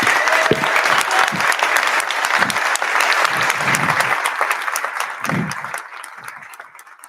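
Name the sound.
audience applauding loudly for Pierre Cossette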